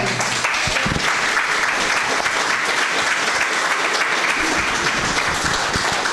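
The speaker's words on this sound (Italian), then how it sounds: "e un applauso meritato a Diego Pagotto." An indoor audience at a public talk in Santa Bona, Treviso gives loud, dense, sustained applause that fills the space evenly from start to finish, with no voices over it.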